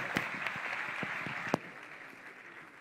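An audience at a sports awards gala in Béjar claps in steady, moderately distant applause, with a few sharper individual claps standing out before the sound eases off.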